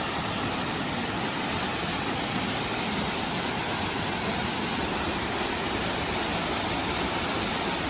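A waterfall near Manuguru roars as a steady, dense rush of falling water, loud and close, unbroken for the whole stretch with no voices over it.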